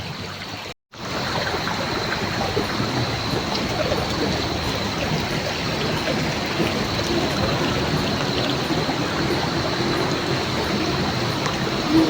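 Water flowing steadily in a stream along the Margalla Hills hiking trail near Islamabad, a continuous close rushing and trickling wash that runs without a break after a brief dropout at the start.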